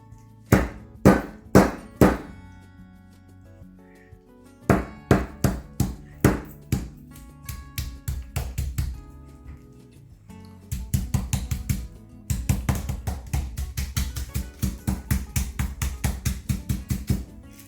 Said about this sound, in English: So just hammering with this.